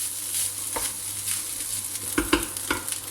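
Rice and vegetables frying in a pan give a steady close sizzle, broken by several soft scraping stirs and bumps toward the end, with no voices.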